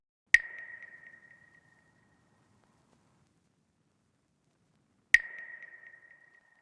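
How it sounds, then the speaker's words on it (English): Two sharp, hollow woodblock knocks about five seconds apart, each ringing briefly before decaying into silence. "Then next up, we have a"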